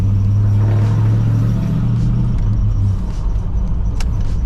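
An old OBS Ford truck's engine rumbles steadily from inside the cab while driving, a loud continuous low drone with a faint chirp, no talking.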